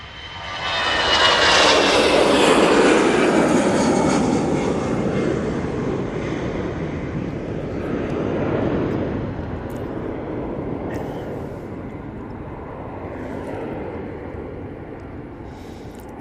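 An airliner takes off from Manchester Airport bound for Paris Charles de Gaulle, a loud roaring jet engine rush that peaks early and then slowly fades into a long distant rumble, with no talking over it.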